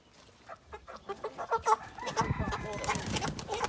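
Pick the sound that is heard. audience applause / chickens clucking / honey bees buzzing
chickens clucking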